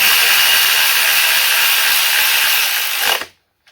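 Electric power tool spinning spark plugs snug into a Honda K24 engine, a steady close whir for about three seconds before cutting off abruptly into silence.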